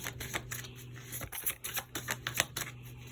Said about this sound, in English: this deck is a little bit sticky, so it's like hard to shuffle it sometimes